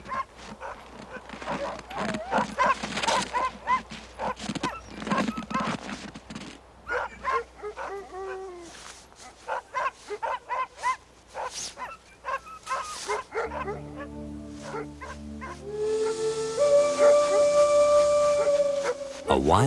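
Alaskan sled dogs bark, yip and whimper in a loud, busy chorus of sharp repeated calls, with whining cries layered in and music entering toward the end.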